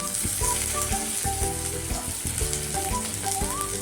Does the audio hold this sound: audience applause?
no